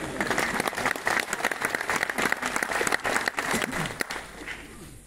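A seated audience at a corporate marketing event claps together, loud dense applause that holds steady for several seconds before tapering off.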